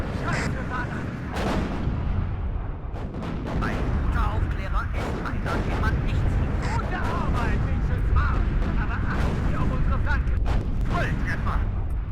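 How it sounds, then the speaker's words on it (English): Artillery fire in the real-time strategy game WARNO, a cold war battle near Bad Hersfeld, heavy booms and rumbling bursts rolling continuously under a commentator's voice. "that artillery can actually shoot at the Lukes there"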